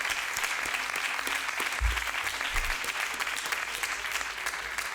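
Loud, dense applause from a crowd at a women's basketball capital handover ceremony, steady clapping throughout with no pauses.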